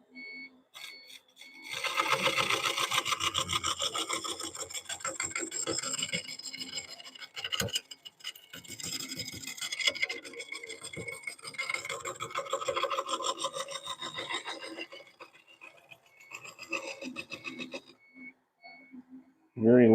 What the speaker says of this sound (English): So we're going to pull out the trusty scraper here.